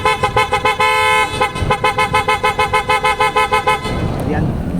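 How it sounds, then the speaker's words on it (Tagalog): A Toyota Innova's aftermarket horn honks in a rapid string of short, loud toots, then one longer blast, close by, with a brief low rumble afterward. "testing natin kung gaano kalakas ang ating horn"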